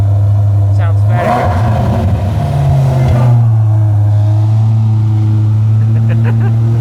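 A Corvette breathing through a Milltek exhaust gives a deep, steady rumble that swells briefly into a rev, then settles back to a low, even drone, with voices partly over it.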